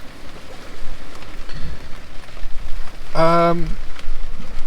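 Heavy rain falls at night on a beach at Stallingborough Wall during sea fishing, a loud, steady patter and hiss. A brief tonal beep rings out partway through, and a voice speaks briefly.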